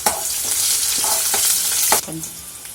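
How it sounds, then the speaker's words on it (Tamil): Sliced shallots sizzle and crackle in hot oil in a pan, a steady close frying hiss with a few stirring scrapes, for a snake gourd poriyal. "வெங்காயம் நல்லா வதங்கட்டும்."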